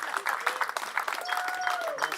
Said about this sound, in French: ça y est, on peut applaudir